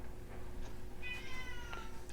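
A pet cat gives a single drawn-out meow, moderately close, over steady low background hum.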